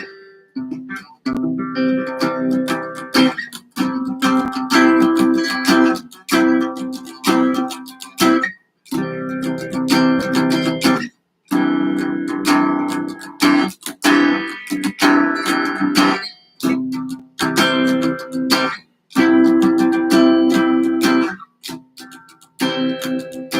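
Strummed guitar chords on the bottom four strings in an intermediate practice run, a steady rhythm of clipped chord hits with short gaps between them, close and loud, with no voice.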